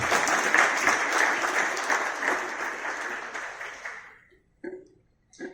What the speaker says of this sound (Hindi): जोर से ताली बजाइए भाई सीओआई के लिए।